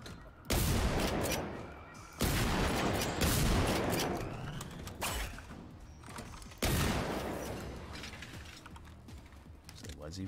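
Gunshots in the Generation Zero video game ring out in four loud, spaced blasts, each followed by a long echoing tail, with a voice talking between them.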